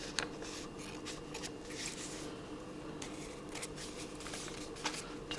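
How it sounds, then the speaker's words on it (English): Close, quiet crisp snips and rustling of material as something is cut, a few sharp clicks scattered over a soft steady background. "I'm just going to cut a bit of this off."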